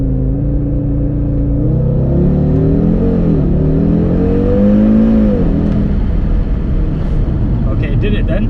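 2020 Audi RS3 with a particulate filter launching from a standstill, the engine droning and rising in pitch through the gears, loud and close inside the car, with a voice speaking over it.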